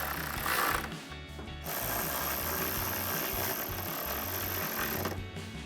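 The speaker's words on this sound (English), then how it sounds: "tighten them down with a 10mm socket" A 10mm socket ratchet tightening headlight mounting bolts on a 2019-2023 RAM 1500, rapid steady clicking of the pawl close by, broken by two brief pauses between bursts.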